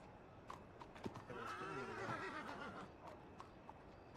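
Horses in a Western roleplay video game, quiet and distant: a drawn-out whinny in the middle surrounded by scattered hoof clops as riders approach.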